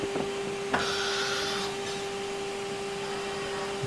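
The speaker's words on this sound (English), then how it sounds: "Comes the machine again, picks out a new bit." A CNC router cutting boat parts switches to a new bit, a steady machine tone running under brief mechanical clicks and a short whirring burst, fairly quiet and close, with no voices.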